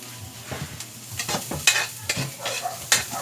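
Garlic sautés in a pan with steady sizzling and frying, broken by repeated scraping and clinking strokes of a utensil stirring, close and clear with no talking.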